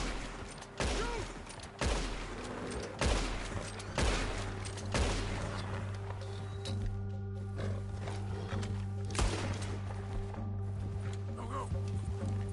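Gunshots ring out in Red Dead Redemption 2, several sharp cracks in the first five seconds followed by a couple of sparser shots, amid wild animal noise, ambient outdoor rumble and people talking.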